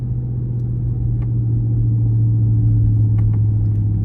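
A Dodge Charger R/T with the 5.7 engine holds a steady, close, loud low rumble with a constant engine drone and no talk over it, though no clear rise in revs comes through.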